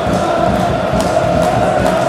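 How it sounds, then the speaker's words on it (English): Celtic football supporters celebrate at a January Scottish League Cup semi-final against Kilmarnock, a dense, loud crowd roar with cheering and chanting sustained throughout. "Our Celtic fans celebrating."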